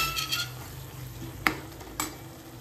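Pav bhaji masala cooking in a pan, a soft sizzle beneath scraping spatula strokes, with a couple of sharp clinks of utensil against the pan partway through; no voices.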